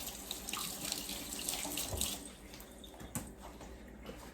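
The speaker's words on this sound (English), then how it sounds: "Let me rinse my hands here just a minute." A kitchen tap runs steadily while hands are rinsed beneath it, a close, continuous splashing stream with small shifts in the flow as the hands move.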